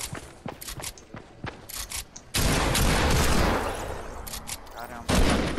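Automatic gunfire in the video game Fortnite, with bursts of sharp shots, then a loud sustained volley and a final heavy burst. Players talk over the game sounds.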